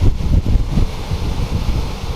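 Rumbling, buffeting wind roar from 20–25 mph crosswinds hitting a rider on a moving motorcycle, loud and continuous with gusty low-end pulses and no voices.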